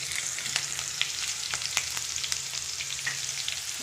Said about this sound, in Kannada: ನೋಡಿ ಫ್ರೈ ಆಗ್ತಾಯಿದೆಯಲ್ವ